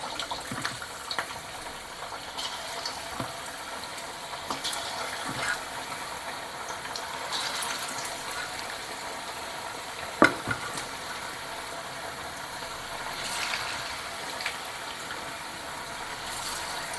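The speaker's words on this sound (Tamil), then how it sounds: "பாருங்கள், ஒன்று ஒன்றா போட்டு வறுக்கிறேன்" Chicken kebab pieces dropped one by one into hot oil and frying, a constant close sizzle and crackle with occasional sharper pops and clinks throughout, no talking.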